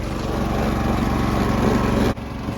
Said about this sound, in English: She's running and splitting, running and splitting wood.